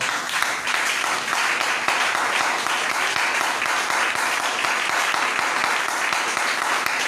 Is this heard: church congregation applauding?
yes